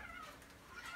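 A cat meowing near a bird trap, two faint meows at the start and end of a brief moment with no talk.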